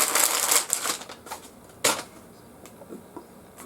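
Paper crinkling and tearing as a neatly wrapped gift is opened, with a flurry of crisp rustles at the start, a sharp rip near the middle, then quieter scattered crackles, close by.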